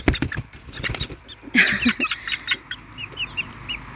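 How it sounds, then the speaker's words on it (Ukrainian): Hens and chicks cluck and peep softly nearby while pecking at leftover feed, with scattered tapping and rustling as they eat. "Курчата під'їдають за ними."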